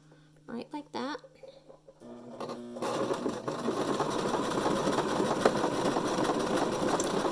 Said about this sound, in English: I'm going to switch back to a zigzag stitch, right like that.